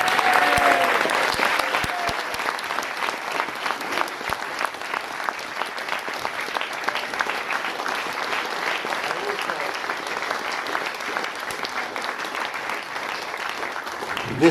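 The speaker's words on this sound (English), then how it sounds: "Let's give them a huge cheer." Sustained applause with cheering from an audience at a 2019 Chiswick election debate, dense clapping that stays steady and fairly loud throughout, with a few voices rising briefly near the start.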